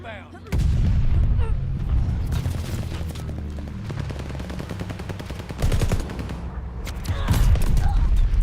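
Video game gunfight in Call of Duty with the Whitley rifle, rapid bursts of automatic fire in fast rhythmic volleys, some heavier booming shots, loud and close, with brief game voice lines mixed in.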